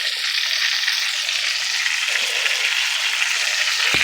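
A chicken cutlet fries in a pan with a loud, steady, bright sizzle that holds evenly from start to finish and has no talk over it.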